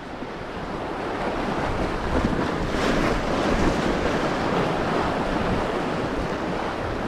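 Strong wind roars across the microphone alongside a constant wash of surf on a UK shore, loud and unbroken, with no voices.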